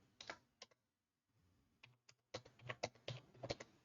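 Keystrokes on a computer keyboard entering a demo phone number, quiet close clicks in short bursts, a pause, then a faster run of taps.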